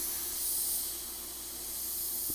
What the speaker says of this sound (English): Oh, this airbrush is spraying by itself.